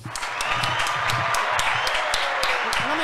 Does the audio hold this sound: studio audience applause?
yes